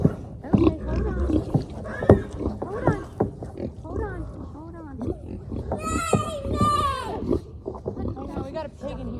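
A pig on a farm grunts and squeals while people talk over it. The sound is close and busy, with bursts of snorting and a louder, higher squealing stretch partway through.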